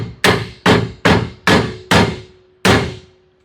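Six sharp hammer blows, evenly spaced and loud, tapping bolts out of a through-frame slide rack arm on an NXG slide, each strike ringing briefly before fading.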